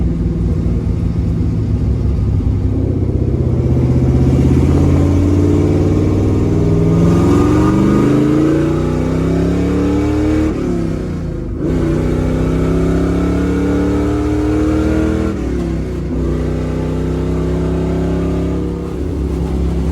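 A 1968 Chevrolet Camaro RS/LS resto-mod with a Hurst shifter roars loudly through its exhaust as it accelerates, rising engine harmonics sweeping up through several gear changes over a continuous rumble, with no talk.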